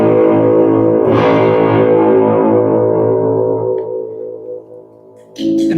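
An electric guitar played through an analog octave-up pedal kit gives a bright, buzzy sustained chord with a synthetic upper edge that slowly decays, then a fresh strum near the end.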